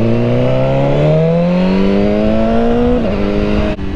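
A 2016 BMW S1000RR sport motorcycle engine drones loudly and steadily while riding, its pitch rising smoothly as the bike accelerates, then dipping briefly near the end. No voices are heard.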